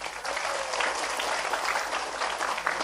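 Steady applause from the congregation at a Sundanese religious study gathering (pengajian) in Sindangkasih, filling the whole stretch at a moderate distance with no speech over it.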